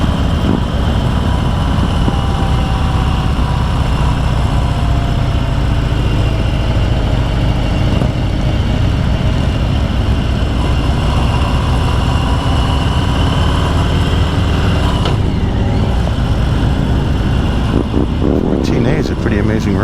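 A Harley-Davidson Heritage 114 motorcycle drones continuously while riding along a canyon road, a loud steady low engine roar with wind noise throughout.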